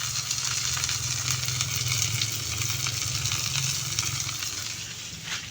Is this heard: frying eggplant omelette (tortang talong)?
yes